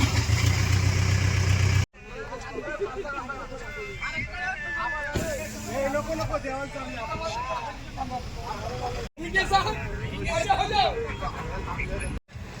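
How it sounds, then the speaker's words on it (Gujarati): Early-morning traffic jam during the Mahakumbh in Prayagraj: engines idle and rumble nearby under a loose crowd murmur, with voices talking throughout and a couple of abrupt cuts breaking the sound. "ટ્રાફિક એટલું ખતરનાક જામ."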